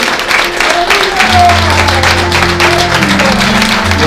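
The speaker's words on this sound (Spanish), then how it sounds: "¿Cuánto le dan ese aplauso al Señor?" A church congregation claps for the Lord during a morning service, broad sustained applause mixed with organ or keyboard tones and some voices, fairly loud and close throughout.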